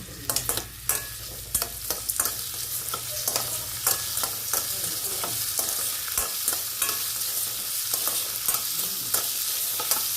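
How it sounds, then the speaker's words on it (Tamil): Sliced onions sautéed with salt for a bitter gourd gravy sizzle steadily up close. A spatula clacks and scrapes the pan in frequent sharp strokes, and nobody speaks. "வெங்காயம் போட்டு வதக்கும் போது கொஞ்சம் உப்பு போட்டு வதக்கினா குயிக்காக வந்து நம்மளுக்கு ஈஸியாக வதங்கிடும்"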